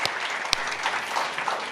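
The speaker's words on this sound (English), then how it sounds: "I just want to give them a big clap and a thank you for the work that they do" A community meeting audience claps for the organization's board of directors, a dense, steady burst of applause close by with one sharp louder clap.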